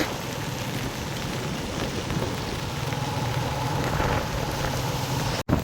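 Steady, dense rain pours down continuously with a broad hiss, close and loud, with a low rumble underneath and a brief dropout near the end.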